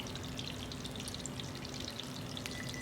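Funnel cake frying in hot oil gives off a faint, steady sizzle with scattered small crackles and pops, and no one speaks.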